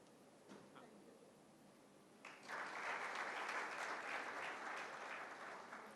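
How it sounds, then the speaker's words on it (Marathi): Loud applause for the chairman at a book launch in Panvel, swelling suddenly after a couple of seconds of faint room murmur with a few scattered claps, then holding as steady, dense clapping from a large audience. "एकदा जोरदार टाळ्या झाल्या पाहिजे त्यांच्यासाठी"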